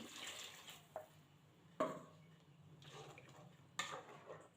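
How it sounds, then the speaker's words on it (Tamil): A mixie jar being rinsed and water poured into a simmering fish curry (meen kulambu) in a home kitchen, faint sloshing and splashing with a few clinks of the vessel, quiet and close. "அரைச்ச விழுதை ஆட் பண்ணிவிட்டு மிக்ஸி ஜார் அலசி கொஞ்சமாக தண்ணி ஆட் பண்ணிக்கலாம்"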